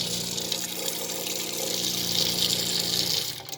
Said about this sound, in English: And you got full running water.